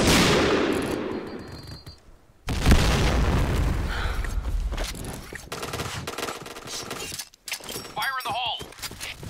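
Grenade blast in the Point Blank shooter game, a loud close boom that cuts in after a brief silence, followed by rapid gunfire and battle noise, with shouting voices in the mix.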